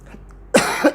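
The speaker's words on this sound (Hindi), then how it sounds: "तबीयत थोड़ा गड़बड़ है इसलिए खांसी आ रही है।" A single person's harsh cough bursts out close and loud after a brief quiet, followed by a second smaller cough, with no speech.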